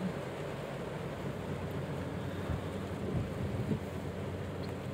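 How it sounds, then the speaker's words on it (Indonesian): Heavy rain pours down during a flood, a dense, steady roar of water with low rumbling beneath it and no voices. "karena sekarang masih hujan turun dengan kuat."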